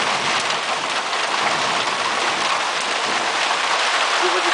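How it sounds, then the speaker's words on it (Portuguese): Dense hail pelting down during a storm in Sertãozinho, São Paulo, Brazil, a loud unbroken hiss and clatter of hailstones hitting surfaces, steady throughout with no pauses. "Chuva de pedra no Sertãozinho."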